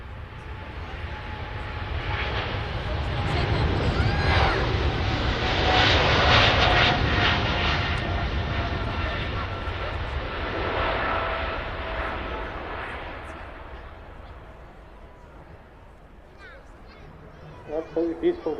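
A Boeing 777 airliner departing Manchester Airport on a flight to Dubai, its engines roaring loud and steady as it swells to a peak and slowly recedes into the distance, with a voice briefly heard near the end.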